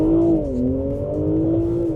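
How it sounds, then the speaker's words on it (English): A B58-powered BMW launching from a standstill, loud sustained engine drone that dips briefly then climbs steadily in pitch as it accelerates, close and alone with no voices. "I'll just launch it from a standstill."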